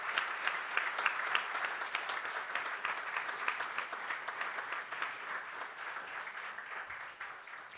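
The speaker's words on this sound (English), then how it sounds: "let's give a round of applause to everybody so far" A ceremony audience at the 2025 Awards of Valor keeps up steady, even applause for the whole stretch, a dense wash of many hands clapping at once with no break.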